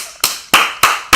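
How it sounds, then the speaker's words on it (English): Four sharp, loud hand claps spaced roughly evenly apart, each a crisp broadband slap with a short decaying tail, close to the listener and with no talking. "That was a very intense clap."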